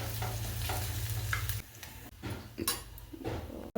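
Ginger and garlic paste frying in hot oil, a close hiss with rapid scraping stirs, the sizzle dropping after a moment into intermittent scrapes and clatters.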